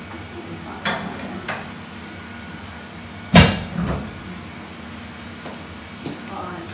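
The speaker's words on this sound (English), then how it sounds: "Before I shut the door." A door is pushed shut with one sharp, solid thud midway, framed by a few lighter clunks and knocks before and after, over a steady indoor hum.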